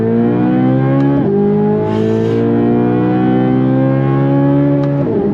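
A 2023 Chevrolet C8 Corvette Z06 engine pulls hard on throttle in second gear, a loud close harmonic howl climbing steadily in pitch, with brief shift-like dips near the start and end.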